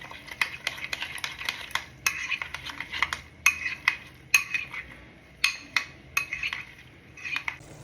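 Egusi paste mixture being whipped in a bowl with a utensil, giving rapid, repeated clinking and scraping strokes in an uneven rhythm that continues steadily and close up.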